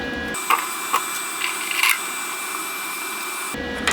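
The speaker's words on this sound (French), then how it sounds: "Je mets l'adaptateur pour les bobines de fil 5 kg." A 5 kg wire spool adapter is fitted onto the spindle of a GYS Easymig 160 XL MIG welder, giving a few light plastic knocks and clicks close by over a steady broadband fan-like hum. No one speaks.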